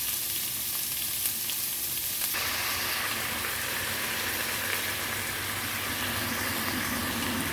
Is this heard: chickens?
no